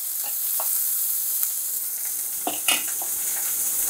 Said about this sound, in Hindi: तो ये शर्र की आवाज़ें तो आई गई होंगी आपको